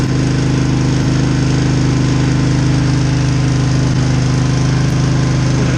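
Small engine with a gummy carburetor, long unused and fitted with a new battery, running continuously close by with a steady, loud, pulsing drone and a slight irregular beat.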